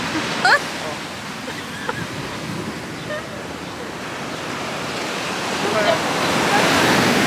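Sea waves washing ashore in a steady surf roar with wind buffeting the microphone, swelling louder toward the end, with brief faint voices.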